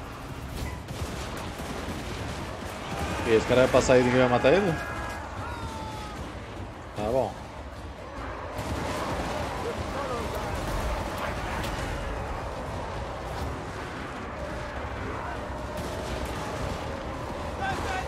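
Bursts of rapid gunfire crackle in the middle of a Total War: Warhammer III battle, loudest around a few seconds in, with a voice talking over a steady background of battle noise.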